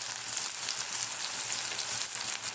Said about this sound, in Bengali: এইবারে দেবো আদা, যে গ্রেট করা আছে না, ওই আদাটাকে দিয়ে দেবো।